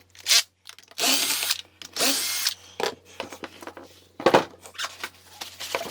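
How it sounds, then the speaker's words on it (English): A power drill works on a Hilti TE-905 AVR breaker, running in several loud bursts of whirring, with shorter stop-start pulses and clicks of metal parts between them at close range. "we'll try to take it now with the drill"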